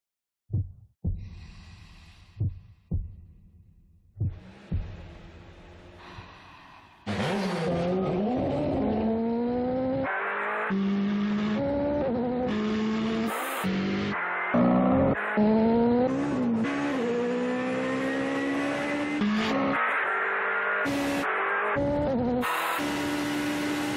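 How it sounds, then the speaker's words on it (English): A new Mitsubishi Triton sport pickup truck drives past, its engine loud and continuous after a few sharp opening knocks, with rising revs and tonal whine over roughly seventeen seconds. "The sport truck. New Mitsubishi Triton."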